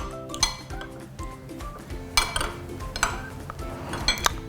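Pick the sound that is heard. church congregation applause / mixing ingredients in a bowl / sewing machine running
mixing ingredients in a bowl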